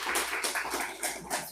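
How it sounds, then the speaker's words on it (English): An audience claps for a panel at a tech summit on AI, cyber and IT, giving short bursts of close, fairly loud applause in quick uneven pulses. "Let's give him a round of applause."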